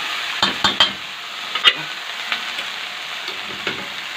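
Green okra sautéing in a pan with tomatoes, a steady close sizzle with a few sharp clinks of a utensil against the pan early on and scattered softer stirring taps through the rest.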